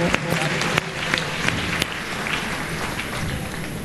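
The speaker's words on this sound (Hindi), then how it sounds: "तालियों की गड़गड़ाहट से" Steady crowd applause at an awards celebration for NEET and AIIMS exam ranks, a dense wash of clapping that holds evenly throughout with a few sharper claps standing out.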